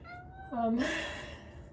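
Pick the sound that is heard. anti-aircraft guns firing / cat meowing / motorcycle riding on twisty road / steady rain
cat meowing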